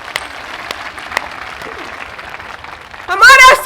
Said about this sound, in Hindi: जोर की ताली।